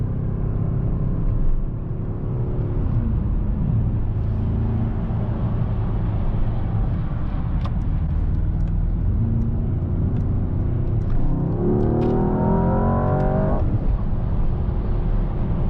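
A 2025 Mercedes-AMG S63 E Performance luxury sedan cruising at highway speed, with a steady loud engine and road rumble throughout and a rising engine tone near the end.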